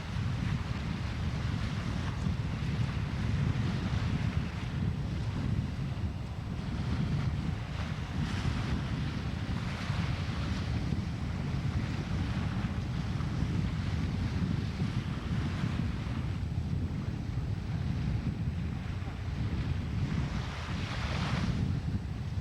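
Steady outdoor wash of waves and gusting wind in Provincetown Harbor, Cape Cod, with a constant low rumble and wind buffeting the microphone throughout, no voices.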